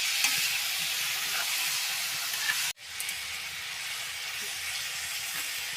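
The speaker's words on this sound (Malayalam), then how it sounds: "ഇനി ഇതിലോട്ട് ചിക്കൻ്റെ ചിക്കൻ ഇട്ട് കൊടുക്കാം ഇളക്കി കൊടുക്കാം" Chicken frying with golden onions in a hot pan gives a steady, close sizzle with stirring scrapes, broken by a brief sharp knock midway.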